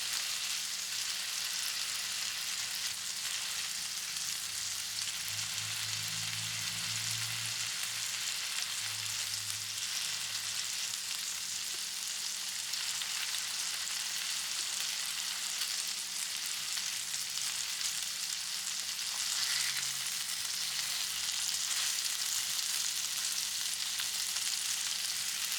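Fish sizzling on a grill, a steady bright hiss that runs close and even throughout, with faint low background noise and no talking.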